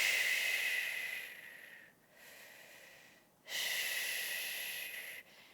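Slow, deep breathing during a birth-prep workout: a long, airy inhale, then a softer exhale and another strong breath, close to the microphone, breathy and hissing, with no speech.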